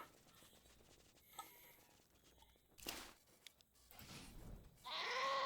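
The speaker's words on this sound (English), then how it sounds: "what the hell is that screaming noise it makes? Or cute little goat, rather" Goat in Wasteland 2 gives a short, faint bleat near the end after soft patter and light footsteps, low-level and close, with no talking.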